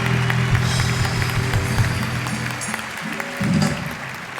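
A studio audience at a television talk show applauds steadily and loudly, a dense wash of clapping that carries on throughout without letting up.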